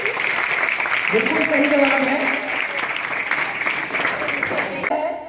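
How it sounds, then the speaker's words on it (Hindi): Audience applause at a school quiz on cleanliness, a steady wash of clapping lasting several seconds and ending abruptly, with someone speaking over it. "जोरदार ताली।"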